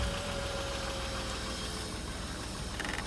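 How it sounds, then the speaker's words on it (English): A BMW E36 car engine runs at a steady idle after starting, a continuous close, even mechanical hum with a faint tone, no talking. "And now I'm going to start the car and bleed the system."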